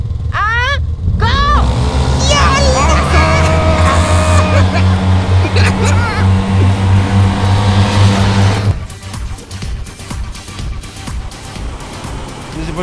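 Two Yamaha TMAX 530 maxi-scooters launch hard from a race start, engines droning loud and rising with shifting whine for several seconds before the sound drops away abruptly to quieter road noise.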